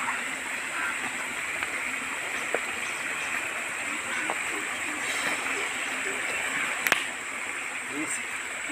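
A strong waterfall pours down a hillside near Kashimira, a constant broad rushing roar at moderate distance, steady throughout with a few faint knocks and low voices in the background.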